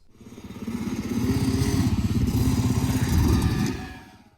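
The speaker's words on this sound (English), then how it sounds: "You see me just riding at 8th throttle, and it sputters." A 2022-2025 Yamaha YZ125 dirt bike is ridden at eighth throttle with bogging, sputtering jetting. The engine makes a steady, pulsing buzz that swells and then fades over a few seconds, with no voices.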